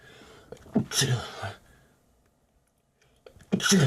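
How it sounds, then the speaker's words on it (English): A sudden close sneeze bursts out after a short breath, followed by a quiet pause before speech resumes. "I gotta sneeze"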